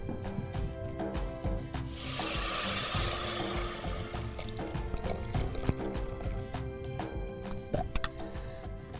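Water is poured into a large bowl of drumstick (moringa) leaves in a kitchen, a close, steady splashing rush lasting a couple of seconds amid light handling clatter.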